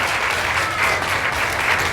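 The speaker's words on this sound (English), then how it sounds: "Let's give them all a big round of applause." At a hypnosis show at the Robeson County Fair in Lumberton, NC, an audience gives a brief, steady burst of applause, a dense wash of clapping with no pauses.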